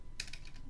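A short, faint burst of keys tapped on a computer keyboard, a few quick clicks close by in a quiet room.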